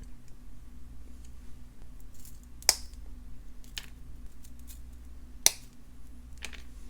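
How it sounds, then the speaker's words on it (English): Beading wire is snipped for a beaded rope necklace, giving two crisp, isolated cuts a few seconds apart against a very quiet room background. "We're going to be cutting 2 pieces of wire."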